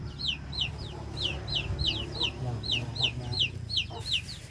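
Chickens cluck in a repeated series of sharp, bright calls, about ten in quick succession, close by over a low outdoor background rumble.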